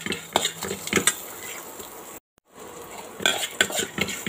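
A metal spoon scrapes and clinks in a pan as green chili, ginger and cumin are stirred together for a bottle gourd pachadi: quick, close, irregular clatters with brief pauses, one short silent gap midway.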